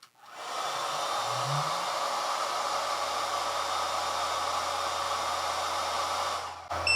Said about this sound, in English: This is the hair dryer.